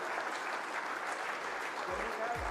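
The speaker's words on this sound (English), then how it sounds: "A huge round of applause" Steady applause from an audience fills the whole stretch, a dense wash of clapping with a voice briefly audible beneath it.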